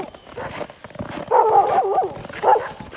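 Sled dogs barking and yipping in a race checkpoint dog yard at the Willow 300 Sled Dog Race, several loud barks in two bursts against outdoor bustle and clatter.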